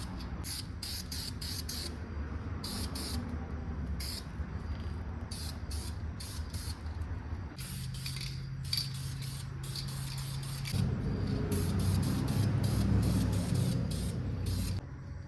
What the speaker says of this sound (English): We're gonna give this the old rattle can